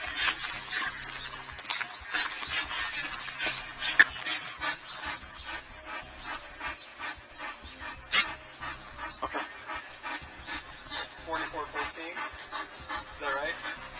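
A big dog pants rapidly and steadily in a backyard at a dead-end house, close and fairly loud, with occasional sharper breaths and people talking intermittently around it.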